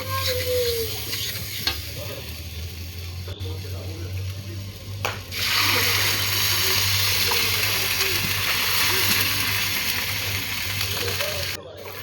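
Water is poured into a pan of soybean curry masala mid-cook, a sudden broad rush around five seconds that turns the sizzling into a louder, steady bubbling hiss, with a low hum and light stirring throughout, no talk.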